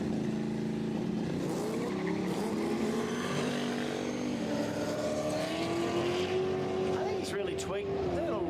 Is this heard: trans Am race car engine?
yes